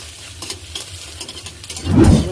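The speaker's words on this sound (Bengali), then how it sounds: "ভেজে নিচ্ছি ডিমটাকে আমি এখানে" An egg frying in a pan for egg chowmein: a soft, steady crackling sizzle, close, that swells into a louder bubbling hiss near the end.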